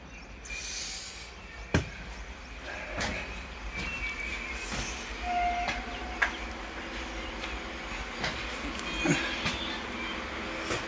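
A Vande Bharat express train pulling away after a green signal, heard from inside the carriage as a steady rolling rumble on the rails with scattered sharp clacks and faint squeaks over about eleven seconds, no talking.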